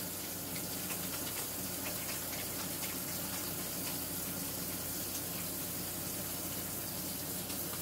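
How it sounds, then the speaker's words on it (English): Hands being washed under a running kitchen tap, a steady faint hiss of flowing water that continues unbroken, with no voices. "First thing you have to do before you start any kitchen project, cooking project, is you wash your hands."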